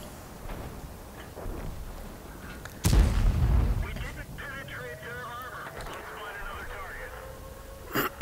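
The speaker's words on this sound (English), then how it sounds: "Another shot into IS-3" In World of Tanks on the Sacred Valley map, a tank cannon fires one sharp, heavy boom near the middle. A low rumble follows, with quieter battle noise and a final short crack near the end.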